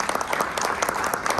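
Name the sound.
audience applause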